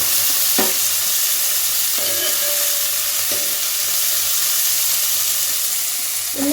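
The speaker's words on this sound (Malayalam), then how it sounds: "സവോള, പച്ചമുളക് ഇത് ഇടട്ടോ." Onion and green chili fry in a pan with a steady broadband sizzle, broken by a few brief stirring scrapes, no voices heard.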